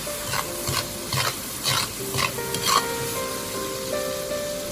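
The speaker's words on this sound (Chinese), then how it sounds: "将它翻炒均匀，炒出香味" Minced garlic sauce seasoned with chicken bouillon and a little sugar being stir-fried in a wok, with a spatula scraping in steady rhythmic strokes over a soft, continuous sizzle.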